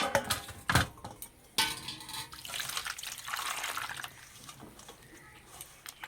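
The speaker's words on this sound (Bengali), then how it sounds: "আমগুলো পরিষ্কার করে ধুয়ে নেব।" Two kilograms of ripe mangoes being washed by hand in water, with close splashing and sloshing, a sharp knock against a vessel, then a stretch of running, trickling water.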